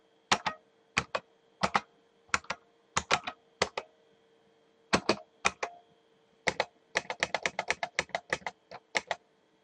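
Rapid clicks of a computer keyboard being typed on, coming in irregular bursts of keystrokes with short pauses, close and crisp against a quiet background.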